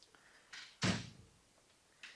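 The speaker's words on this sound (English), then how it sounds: "And if we close this door," A flush, seamlessly integrated door in a residential interior shuts with one solid thunk, near and fairly loud, after a softer scrape of movement, then quiet room tone.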